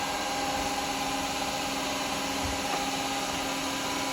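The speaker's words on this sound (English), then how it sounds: "Drill our hole." A drill runs steadily through a hole in a turned wooden yoyo, giving a constant whirring drone with a faint tonal whine and no talk.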